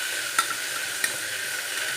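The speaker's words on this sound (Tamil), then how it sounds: "பச்சை மிளகாய், வெள்ளைப்பூடு, இஞ்சி. அவ்வளோதான். நல்லா வதக்கலாம்." Green chillies, garlic and ginger sautéing in a pan with a soft, continuous sizzle close by, marked by a couple of light taps from the stirring utensil.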